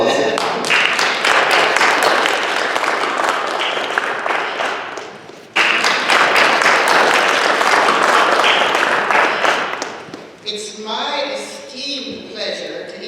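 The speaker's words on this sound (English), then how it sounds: "So please give her a round of applause." An auditorium audience applauds at a higher education event after a speaker is introduced, dense loud clapping for about ten seconds with a brief dip midway, then fading as talk and shuffling take over.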